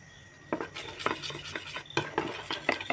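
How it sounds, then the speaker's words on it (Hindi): Cocoa powder being stirred into milk in a bowl for a marble cupcake batter: a spoon clinks and scrapes against the bowl in a quick series of close, sharp taps, with no voices. "कोका पाउडर 1 टीस्पून लेगा और उसके बाद मिल्क से इसको मिक्स करेगा"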